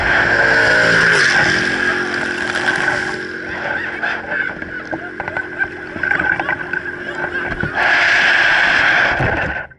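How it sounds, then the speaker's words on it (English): A boat speeds past very close at the edge of a river, throwing water over the camera: a loud roaring engine with rushing, splashing water that dips briefly mid-pass and then surges again. "The boat is at the very edge of the river, throwing water up and over the cameraman"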